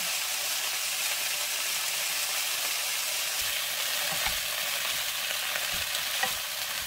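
Bean sprouts stir-frying for banh xeo give a steady, loud hiss and crackle of oil in a pan throughout, with a few soft knocks of utensil against pan near the end.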